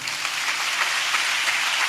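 Steady, dense applause from a church audience, continuous clapping close and fairly loud throughout with no voices.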